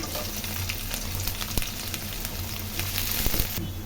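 Garlic, green chili and a little capsicum sautéing in hot oil, a continuous near frying hiss with occasional stirring knocks, cutting off sharply at the end.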